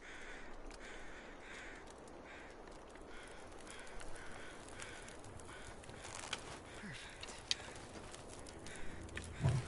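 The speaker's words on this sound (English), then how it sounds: "I know I hear the crows now" Crows caw faintly in the distance within The Long Dark, a few scattered calls over a low outdoor hiss, with soft footstep-like crunches near the end.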